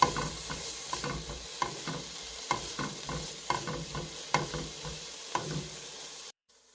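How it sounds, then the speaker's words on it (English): Garlic and vegetables sizzling in a pan for a Bolognese, with a steady fry and regular spoon scrapes and taps about once a second, close and alone, ending abruptly. "Cook the garlic off for just a moment."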